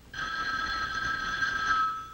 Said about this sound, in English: But I believe this is the telephone.